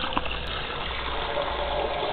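Tap water runs in a steady, even rush, close and constant throughout with no voices.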